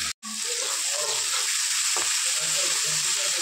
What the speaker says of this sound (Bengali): এবার একটু নাড়াচাড়া করে হালকা ফ্রাই করে নিই সবজিগুলো